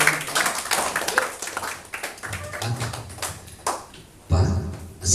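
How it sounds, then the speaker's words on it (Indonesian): Indoor audience clapping at a corporate MC and communication training session, a dense burst of applause that thins out and swells again, with some voices mixed in. "Tepuk tangan buat saya"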